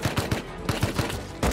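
Rapid gunfire from the video game Rust, a string of sharp, close shots in quick bursts with a brief pause before a final heavy report.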